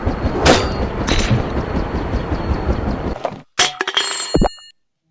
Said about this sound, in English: Now let's use the grapple gun.